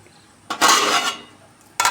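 Soaked, washed rice pours into a large cooking pot of water with a loud, close rushing hiss lasting about a second, followed by a second burst of grains spilling in.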